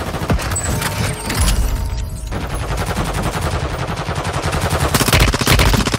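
Gunfire in a Call of Duty Mobile warzone match, with rapid bursts of shots and loud booming reports cracking repeatedly, dense and close, over ongoing game ambience.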